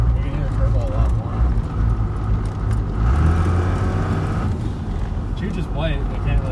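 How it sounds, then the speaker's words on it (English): An old Dodge pickup with a first-generation Cummins diesel runs hard, its turbo whistle rising over a loud, steady engine drone, with people talking inside the cab. "You can hear turbo a lot more."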